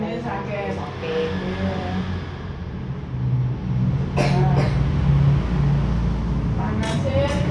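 A four-year-old child with a fever and cold gives a few short coughs in quick succession, followed by another pair a little later, over steady background room noise and traffic-like hum.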